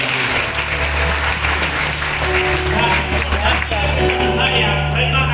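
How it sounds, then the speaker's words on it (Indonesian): Congregation applauding during a GBI Sekinah Glory church service, a loud, steady wash of clapping alongside continuous talk and a sustained low hum throughout. "Boleh tepuk tangan."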